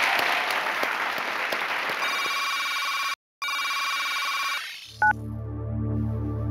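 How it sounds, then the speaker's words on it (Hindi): A studio audience on a Hindi Deal or No Deal game show claps steadily for about two seconds, then sustained electronic show-cue tones and a synth sting take over. "हाँ प्लीज थोड़ी ताली बजाओ, डर लगता है।"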